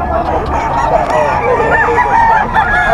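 Several Sweater gamefowl roosters crow loudly at a busy pet market, overlapping calls and clucks filling the air continuously, with people talking underneath.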